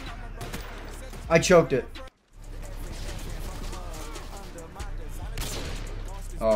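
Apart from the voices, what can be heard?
gunshots in a video game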